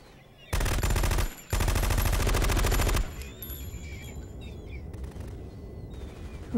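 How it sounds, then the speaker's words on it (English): Video game gunfire from Metal Gear Solid 2: two loud sustained bursts of rapid automatic fire, then quieter scattered distant shots and pings over background ambience. "Who are they shooting at?"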